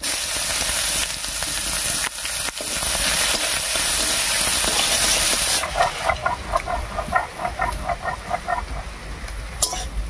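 Chopped onion drops into hot oil already holding dried red chillies, bay leaves and whole cumin, giving a loud, continuous close sizzle and hiss that later turns into choppier, popping bubbling.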